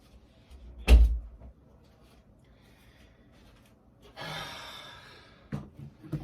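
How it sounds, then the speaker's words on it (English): A bedroom door shuts with one sharp thud near the start, followed later by a soft rubbing, sliding noise and another short bump, all close by in a quiet room. "Let me just close my door"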